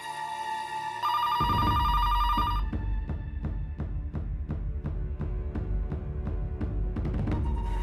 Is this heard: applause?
no